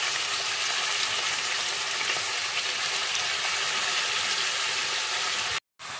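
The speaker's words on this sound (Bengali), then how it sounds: "আমি এই তেলের মধ্যে এই ম্যারিনেট করা মাংসগুলো খানিকক্ষণ নাড়াচাড়া করে নেব।" Marinated chicken pieces for chicken rezala frying in oil over the gas flame: a dense, loud, even sizzle hisses without pause, cutting out briefly near the end before resuming.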